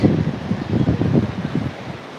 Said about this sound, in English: it is windy because we are by the sea